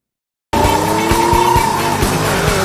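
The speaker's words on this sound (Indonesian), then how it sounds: "mendrift hingga mengeluarkan banyak asap untuk mengaburkan pandangan anak-anak motor" A loud engine roars in abruptly with tires squealing steadily as a car drifts, rhythmic thumps underneath, close and continuous.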